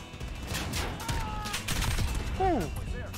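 Video game gunfire from Call of Duty: Modern Warfare crackles in quick bursts of shots over game effects and a talking voice, moderately loud with a sweeping whine near the end.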